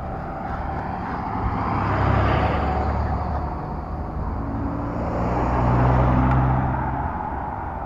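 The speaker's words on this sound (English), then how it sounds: "Oddly enough, there's traffic in this little town right now." Road traffic in a small town, with cars passing fairly near in two broad swells that rise and fade over a steady engine and tyre rumble, no talking.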